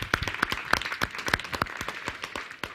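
Sparse, scattered handclaps from a small audience, a few sharp claps ringing out over a thin patter for a few seconds, no voices.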